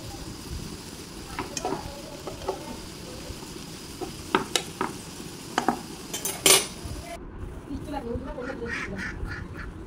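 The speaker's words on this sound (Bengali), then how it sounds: "আমি সব কিছু ভালোভাবে নেড়ে চেড়ে মিশিয়ে নিচ্ছি।" A bitter gourd fry is stirred in a pan, with spoon scrapes and metallic clinks over a low sizzle, followed by a brief rattle near the end.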